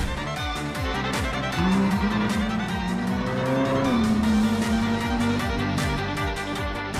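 A high-revving Ferrari Italia sports car engine roars continuously, its pitch rising and shifting as it accelerates, loud and close with a steady mechanical throb.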